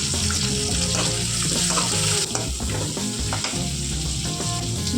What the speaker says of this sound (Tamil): அதை ப்ரௌனிஷாக வதங்க எண்ணெய் நிறைய ஊற்றிருக்கோம் முடியாது சீக்கிரமே வதங்கிடும்